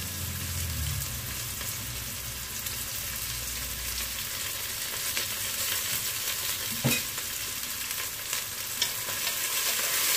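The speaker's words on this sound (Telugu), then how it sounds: "వీటిని గోల్డెన్ బ్రౌన్ కలర్ వచ్చిందాక వేయించుకోవాలి ఉల్లిపాయ." Onions frying in a pan for mutton curry give a steady broadband sizzle with occasional stirring scrapes and a brief low thump partway through, close and continuous, with no talk.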